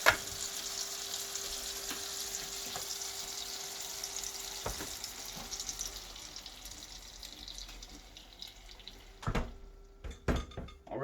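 Pancake batter fries in a pan with cooked apples, a faint steady sizzle with an occasional light clink, growing busier with utensil knocks toward the end.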